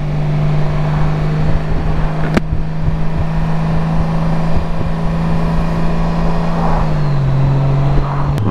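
A 2021 Honda Goldwing motorcycle accelerates on a test ride, its engine droning loud and steady with wind rush, dropping in pitch near the end as it shifts or eases off; no talking.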